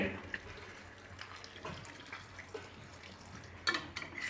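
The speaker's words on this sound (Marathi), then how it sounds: "यामध्ये आपल्याला गरम पाणी गरजेनुसार टाकून घ्यायचं आहे" Hot water pours steadily into a pan of spice-coated bitter gourd curry, a soft, continuous trickle heard close up with a few light knocks and no talking.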